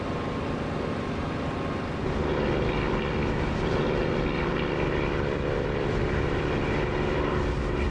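A propeller aircraft engine drones steadily in flight in the DCS flight simulator, a dense, loud, continuous hum that thickens slightly after a couple of seconds and runs on without talking.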